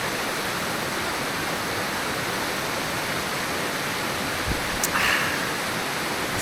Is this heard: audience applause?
no